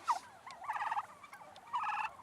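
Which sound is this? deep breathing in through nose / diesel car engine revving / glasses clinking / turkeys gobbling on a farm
turkeys gobbling on a farm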